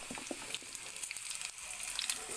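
Chopped onions sizzle and fry together with potatoes in a pan, a soft, steady crackling hiss with occasional light stirring, fairly quiet and close.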